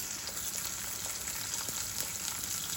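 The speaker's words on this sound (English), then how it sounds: "Now that our oil is hot, it's time to sear our tuna for about 1 minute each side." Sesame-crusted ahi tuna sears in hot oil with a constant, fairly quiet sizzle and fine crackle, with no voices.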